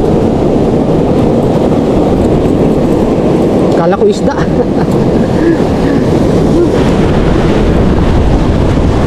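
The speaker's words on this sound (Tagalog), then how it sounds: "Hindi na talaga kaya yung alon." Rough, angry sea waves and strong wind during a fishing trip roar loudly and continuously as a close, rumbling buffeting with a brief surge partway through. Someone speaks over the noise.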